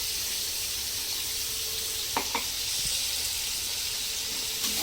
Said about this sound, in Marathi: तर मी आता हे हिरवं वाटण बनवलेलं आहे हे पण टाकते तेलामध्ये